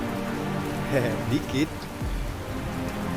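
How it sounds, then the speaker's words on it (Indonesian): Steady rain patters on a tent surface, a soft continuous hiss, while a person briefly laughs and speaks over it. "Ya kan lagi hujan."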